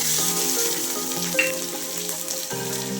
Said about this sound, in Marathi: इथे मंद आचेवर तेल गरम होते त्यामध्ये थोडीशी मोहरी घालायची आणि मगाशी दाखवलेल्या बारीक केलेली हिरवी मिरची